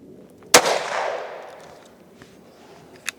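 A Kel Tec Sub2K carbine chambered in 5.7 fires a single sharp, loud shot that cracks and then rolls off in a fading echo, followed by a faint mechanical click near the end.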